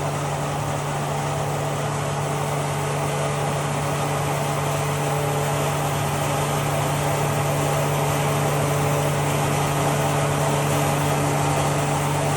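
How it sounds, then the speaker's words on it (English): A laboratory pump runs continuously at about 2900 rpm, giving a constant, even mechanical hum with a steady tonal whine that never changes in level or pitch. "we adjust this potential meter so that we can have the pump speed around 2900"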